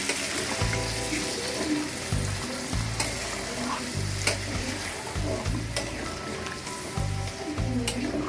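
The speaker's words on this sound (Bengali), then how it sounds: "মাংস কষানো হয়ে গেছে। পর্যায়ে এবার দিয়ে দিচ্ছি জল।" Chicken fried with spices sizzles in a pan after water is poured in, a dense steady bubbling hiss with regular scraping stirs throughout, loud and close.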